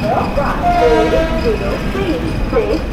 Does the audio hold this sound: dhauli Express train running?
yes